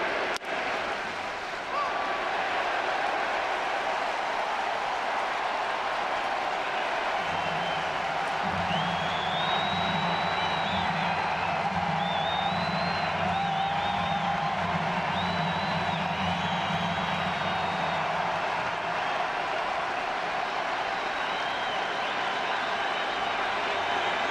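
A lively crowd of more than 40,000 at a Twins vs Blue Jays baseball game makes a steady, broad stadium roar, with a swelling murmur in the middle stretch and a distant announcer-like voice over the hum.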